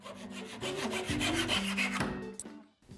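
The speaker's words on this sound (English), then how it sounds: "cut some splines out of this maple" Maple wood cut into splines for a towel holder gives close, rhythmic rasping strokes with a droning tone, steady for about two seconds before tapering off into quiet.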